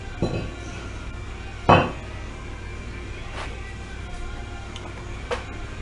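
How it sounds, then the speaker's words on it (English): A brake rotor is pulled off a 1997 Thunderbird and set aside, giving one sharp metallic clank near the start and a louder ringing clunk mid-clip, with a few lighter taps later over steady garage hum. "Pull the rotor off here, set it aside."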